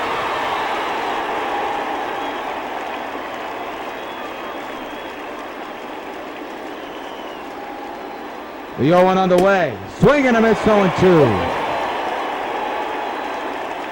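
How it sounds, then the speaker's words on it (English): Simulated crowd ambience at Yankee Stadium in the baseball video game MLB 15 The Show during a night game, a steady murmur beneath play-by-play commentary, with a brief melodic rising-falling sound near the end. "What a crowd for a Tuesday night game here at Yankee Stadium."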